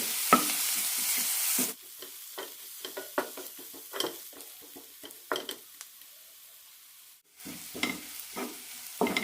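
Masala with Kashmiri chilli powder is sautéed in a pan for a potato and fenugreek-leaf stir fry: a loud sizzle fades early, then irregular scraping spatula strokes and soft frying crackle follow, pausing briefly before resuming.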